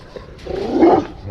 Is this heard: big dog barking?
yes